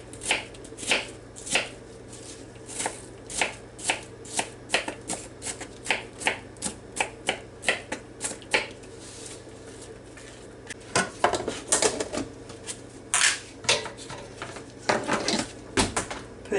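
Onions chopped with a knife on a board, a long run of sharp, close taps in uneven quick bursts, with brief pauses between batches of cuts and no talking.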